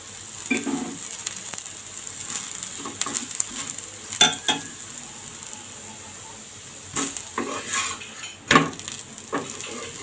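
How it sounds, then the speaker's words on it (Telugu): Oil sizzles gently on a thin bottle gourd dosa in a pan, a faint steady crackle broken by a few sharp clinks and scrapes of a utensil, close and without speech. "లైట్గా ఆయిల్ వేస్తున్నాను"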